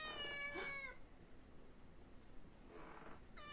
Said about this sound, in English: I think this animal is a cat.